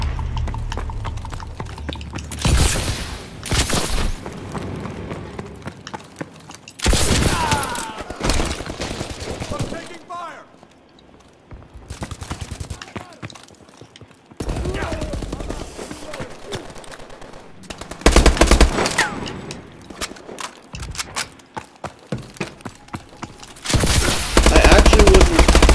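Bursts of automatic gunfire in Call of Duty: Advanced Warfare come in several loud, close volleys separated by quieter stretches of game noise, recurring irregularly throughout.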